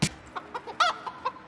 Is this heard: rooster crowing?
yes